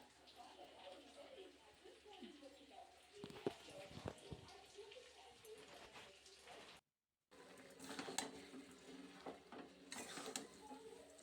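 A spoon stirs washed dalia and fried moong dal in a pan, soft scraping and light sizzling taps coming and going at low level, with a brief pause before stirring resumes.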